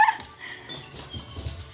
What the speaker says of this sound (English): Oh, Boosie gonna wake up all the dogs.